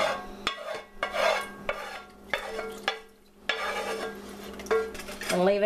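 A spoon scrapes and stirs beef stew in a pot, giving repeated gritty strokes roughly once a second, fairly close and moderately loud, with a low steady hum underneath and no talking.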